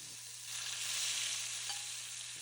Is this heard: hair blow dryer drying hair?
no